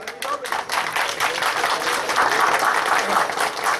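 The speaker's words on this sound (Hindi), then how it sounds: "ताली बजाओ जोरदार यार।" A crowd applauds loudly and steadily at a political welcome ceremony for newly appointed party office-bearers in Churu, dense continuous clapping with voices mixed in throughout.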